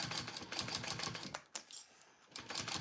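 A sewing machine stitches around a zipper in rapid rhythmic bursts with its bobbin nearly empty, pausing briefly twice before the stitching resumes, close and fairly quiet.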